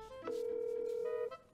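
A telephone ringing tone on an outgoing call, one steady electronic tone lasting about a second over a faint background, with no talking during it.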